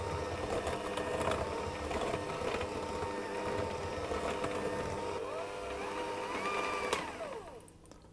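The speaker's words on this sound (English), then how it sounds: "I'm simply going to mix those until they come together into a dough" An electric hand mixer whirs steadily through ground pecans and flour as they come together into a sticky dough, a continuous close motor hum that winds down at the end, with no talking.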